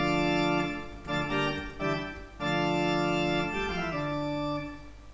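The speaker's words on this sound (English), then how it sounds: "I choose PTO School of Music set that is quite dry in" A dry pipe organ sample set from a music school, played in GrandOrgue, with sustained chords that change a few times, cut off cleanly, with little room reverberation, alone and fairly loud.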